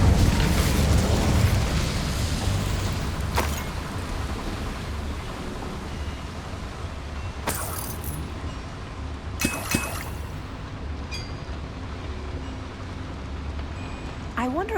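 Roaring whoosh of the Incendio fire spell cast in the Hogwarts Legacy video game, a heavy burst that fades into crackling rumble, with a few sharp bright hits later.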